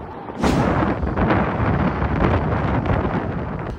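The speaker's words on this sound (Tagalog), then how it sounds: "Dama naman ang malakas na hampas ng hangin sa Baclayon, Bohol" Strong wind roars steadily against the microphone in Baclayon, Bohol, in a dense, rumbling rush that barely lets up, with buffeting gusts throughout.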